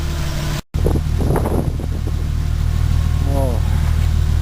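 A 1953 Pontiac engine turns over and catches after a brief gap, settling into a loud, close, steady idle with a low droning hum while a person talks over it.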